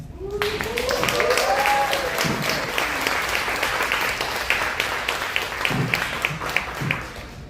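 Audience applause fills a school education town hall as Dr. Rebecca Kim is welcomed to the stage, a steady wash of clapping with a few cheers, sustained throughout and tapering slightly near the end.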